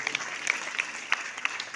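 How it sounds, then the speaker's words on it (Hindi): Scattered applause in a school house assembly during a weekly performance review, sparse claps over a steady hiss, fairly faint and distant with no talk. "तालियां तो बजती रहनी चाहिए"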